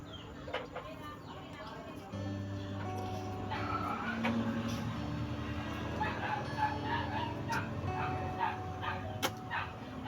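A dog barks in short yips and whimpers at moderate distance, with birds and household background and people talking faintly in the scene.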